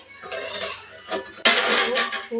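Metal pots and utensils clatter and scrape close by while dal khichdi cooks, a few sharp clanks in quick succession, with a brief burst of voices mixed in.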